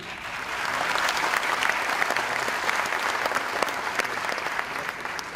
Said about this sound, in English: He really deserves this applause